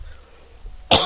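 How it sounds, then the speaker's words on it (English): A single sharp throat clear or cough bursts out close and loud at the end, after a quiet stretch of low background hum. "Clear my throat because I'm starting to get tickly."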